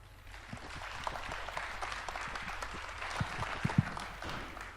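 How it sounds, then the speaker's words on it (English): Applause from a conference audience at a software testing talk, a steady sustained clapping of moderate loudness with a few louder individual claps standing out near the end. "let's give a big applause to Michał."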